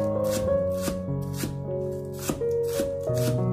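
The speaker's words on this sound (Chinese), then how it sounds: "把大葱切成条， 然后改刀切成葱末" A knife chops green onion into small pieces on a cutting board, a brisk run of sharp, evenly spaced taps close by, with faint tones ringing underneath.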